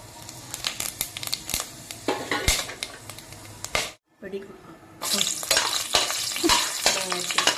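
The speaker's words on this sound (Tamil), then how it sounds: "எல்லாத்தையும் போட்டு தாளிக்க போகிறேன்." Loud sizzling and crackling as spices temper in hot ghee, with stirring clatter and a brief pause before the frying resumes.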